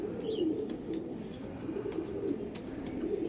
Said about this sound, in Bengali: এই নর পায়রা